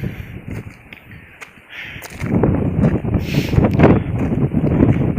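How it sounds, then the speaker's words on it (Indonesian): Strong wind gusts across a misty mountain trail near Mount Gede, roaring and buffeting close against the microphone. It is quieter at first, then a heavy rush takes over from about two seconds on. "Anginnya kencang."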